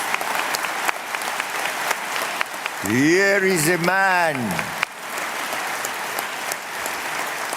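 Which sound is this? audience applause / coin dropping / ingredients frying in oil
audience applause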